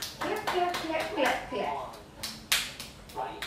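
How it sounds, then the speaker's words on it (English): A child claps hands during pretend play at home, a few sharp claps heard close by, mixed in with a voice and an adult speaking. "Clap."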